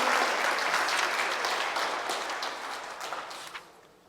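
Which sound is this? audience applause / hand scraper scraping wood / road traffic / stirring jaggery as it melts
audience applause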